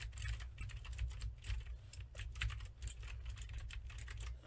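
Fast, steady clicking of keystrokes on a NEWMEN GM840 75% wired and wireless mechanical keyboard, close and clear with a low hum underneath and no talking.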